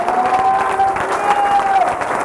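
Church congregation at a Friday worship service applauding loudly, a full, continuous crowd clapping with a sustained tone and faint voices mixed in.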